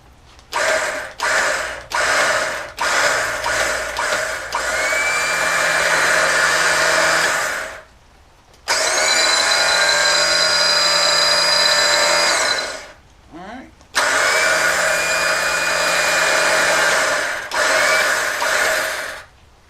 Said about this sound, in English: Turn it on, engage the winch.